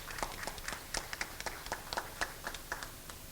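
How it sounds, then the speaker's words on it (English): A burst of applause, many hands clapping in quick uneven succession, moderately loud and close, with no voices over it. "So another round of applause for Tin Wee, I think, is in order."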